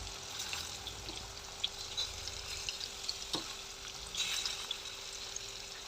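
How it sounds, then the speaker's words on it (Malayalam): Marinated chicken shallow frying in hot oil in a pan, a steady close sizzle and crackle with occasional small pops, no talking. "നമുക്ക് ആ പുരട്ടി വെച്ച് ചിക്കൻ അങ്ങോട്ട് വെച്ച് നല്ലോണം ഒന്ന് ഷാലോ ഫ്രൈ ചെയ്തെടുക്കാം"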